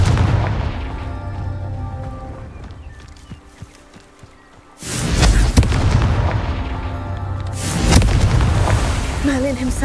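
Confringo blasting spell explosion in the Hogwarts Legacy video game, a loud booming burst with a deep rumbling tail that hits midway through and is followed by a second blast, over game music and effects.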